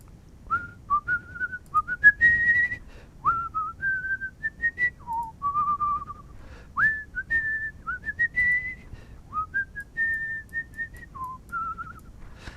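A person whistles a tune alone, clear and close, in a run of short melodic phrases with brief pauses between them, steady and moderately loud throughout.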